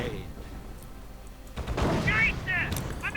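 Gunfire crackles in a World War II real-time strategy game while an Ostwind anti-aircraft vehicle takes fire, a dense rattle of shots and booms building in the second half, with faint whistling game effects layered in and no talk.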